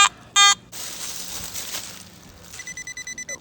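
A metal detector sweeping a colonial-era cellar hole sounds its electronic signal tones: a short bright beep, then a rapid run of repeating pulsed beeps near the end, with rustling between them.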